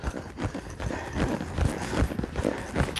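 A working saddle horse clip-clops steadily on the ground during training, hoofbeats close and regular in an even rhythm with faint background noise and no clear talk.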